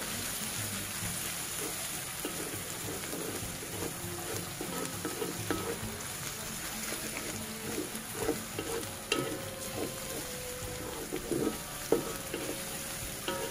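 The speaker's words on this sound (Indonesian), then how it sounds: "Wan akan tumis ke semua bahan-bahan ini sehingga sedikit garing." Ingredients for spicy clams stir-fried in a wok until slightly crisp, a steady close sizzle with repeated scraping and stirring strokes throughout, growing a little busier toward the end.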